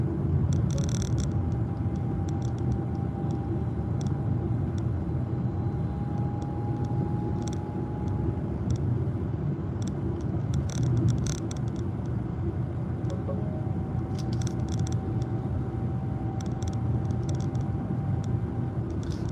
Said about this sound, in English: I'm just surprised at how loud the motors are. It's not as loud as the Rivian, but pretty loud drivetrain